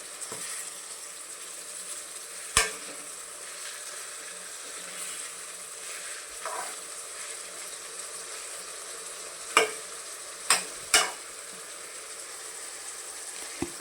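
Brinjal masala (ennegai gojju) stirred and frying in a pan, a low steady sizzle with a few sharp scraping clicks of the spoon against the pan scattered through.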